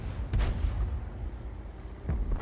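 Self-propelled artillery fire from a Pz.Sfl. IVb in a tank video game: two deep, loud booms about two seconds apart, each with a rumbling tail over a steady low background.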